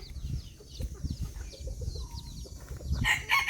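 Bantam chickens cluck repeatedly at moderate distance, with a rooster's crow rising near the end amid general farmyard bustle in Chanthaburi, Thailand.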